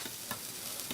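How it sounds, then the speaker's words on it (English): Hot subs sizzle on a restaurant grill at Jersey Mike's, a soft, continuous frying crackle heard close and alone for a brief second. "Look at that sizzle."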